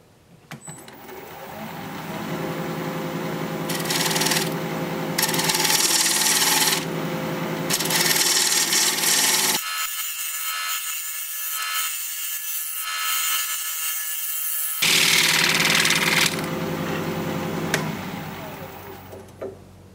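A lathe turns a piece of cork bark, and the tool cuts into it with loud scraping and rasping in several bursts, with a quieter gap of lower hum in the middle and voices heard faintly.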